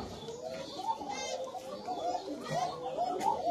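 Koka pigeons in a farm loft cooing softly in repeated low throaty bursts, several birds overlapping at close range amid faint background chatter.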